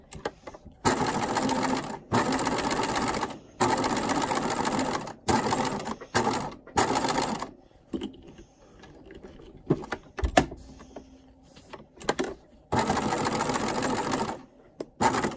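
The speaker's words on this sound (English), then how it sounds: "I'm just running my edge stitch around the entire pincushion like so" A sewing machine edge-stitches around a stuffed pincushion, running in steady close bursts of needle chatter with short pauses for pivoting at the corners, loud and alone.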